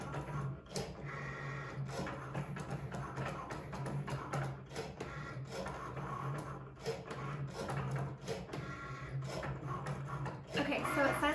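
A Cricut cutting machine works through a design, giving a continuous mechanical whir with small motor shifts and clicks, heard close alongside a faint voice in the room.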